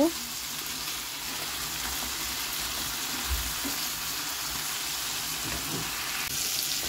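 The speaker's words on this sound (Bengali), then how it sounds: "এরপরে বেগুন আর সিমের বিচি এগুলো ভালো করে কষিয়ে নিব আমি।" Brinjal and bean seeds sautéing in a pan, a steady close sizzle of frying with faint stirring scrapes running evenly throughout, no talking.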